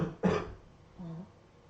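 A single short, raspy cough near the mic, followed by a faint low murmur, during Elden Ring gameplay.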